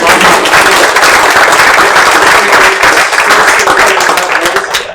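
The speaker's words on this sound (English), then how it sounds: "Let's give Josh a round of applause" A meeting audience gives a loud, dense round of applause for a presenter at a community advisory team meeting, sustained and close for five seconds.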